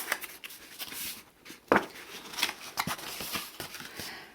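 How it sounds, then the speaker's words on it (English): Crisp, irregular snips of scissors slicing through crinkly kitchen foil to sharpen the blades, with rustling between cuts, close by and without talk. "This is kitchen foil and I find that it sharpens the blade."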